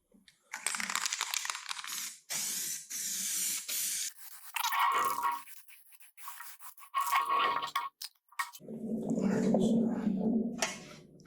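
An aerosol can sprays dry guide coat onto a Nissan 300ZX body panel in several short hissing bursts, with someone talking quietly between them.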